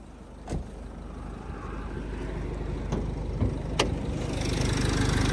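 A Nissan Qashqai J10 with a 2.0 diesel engine, 4x4 and automatic, idles steadily with the hood open, a low continuous rumble heard close up with a few faint clicks and knocks.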